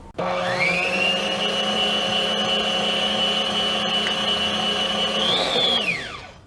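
An electric stand mixer beats cake batter for a sponge-style cake, a steady loud motor whine with a bright high-pitched tone running unbroken for about five seconds before winding down at the end.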